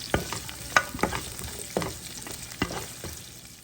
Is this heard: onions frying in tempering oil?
yes